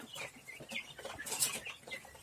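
Hens and young chicks in a coop, a string of soft clucks and thin chirps overlapping at close range, fairly quiet and continuous with no talking.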